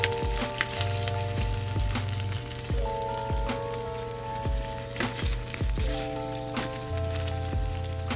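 Smoked goat meat for asun frying in a pan, a close, steady crackling sizzle with dense pops and spits throughout, a faint tonal hum beneath and no talking.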